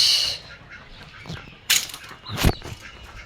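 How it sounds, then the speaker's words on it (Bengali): Ducks and chickens outside a rural village house in the morning, heard as a few brief honks and flaps standing out over faint background noise, with no talking. "বাহিরে আমার মুরগি দাঁড়ায় আছে, হাঁস"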